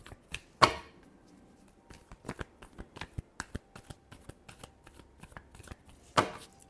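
Tarot cards are shuffled close up, a quick run of soft riffling taps and flicks, with a sharper slap at the start and another near the end, quiet and without talk.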